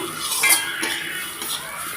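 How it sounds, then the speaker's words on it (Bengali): Sugar is stirred and lightly fried in a pan over low heat, a steady close scrape of spoon against metal with faint clinks and a soft background sizzle. "একটু চিনিটাকে দিয়েও আমি হালকা হালকাভাবে একটু ভেজে নেবো"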